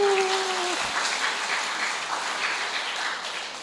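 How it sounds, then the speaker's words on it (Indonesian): Sustained, dense applause from a church congregation at the opening of a GPM Waimahu congregational assembly, a broad wash of many hands clapping steadily, with a brief voice tailing off at the start. "Dong tepuk tangan dong."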